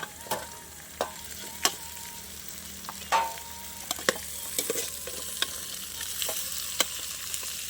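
Chicken feet sauté for adobo in a pan, a soft continuous sizzle broken by sharp scrapes and clacks of a utensil stirring at irregular intervals, close and without speech.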